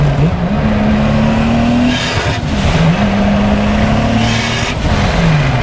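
A Nissan S14 with a swapped 2JZ engine, running on E85 with a flex fuel tune, revs hard and close, its pitch climbing and falling in repeated pulls with a raspy exhaust.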